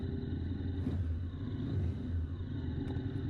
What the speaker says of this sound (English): Hopefully the exhaust note sounds prime for you.